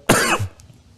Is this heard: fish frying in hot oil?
no